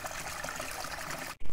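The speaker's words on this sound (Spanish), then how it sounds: "esto es, pues eso, un nacimiento de agua, aquí en mitad de la nada" Water trickles from a natural spring out in open countryside, a soft steady burble heard up close and alone, ending abruptly.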